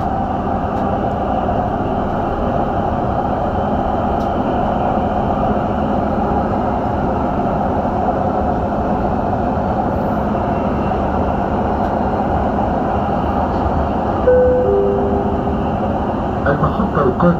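Dubai Metro Green Line train running between stations, heard from inside as a loud, steady rumble and rolling drone throughout, with a brief tonal chime near the end.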